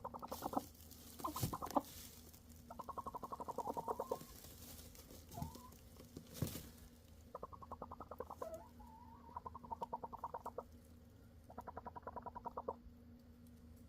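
A hen clucks softly in low, rapid rhythmic bursts, several short murmuring runs separated by quiet pauses, close and gentle, with a faint thump or two.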